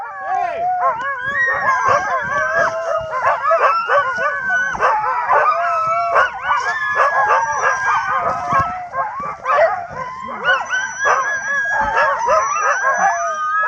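Sled dogs bark, yip, howl and whimper together in a dense, continuous chorus close by, with people talking among them.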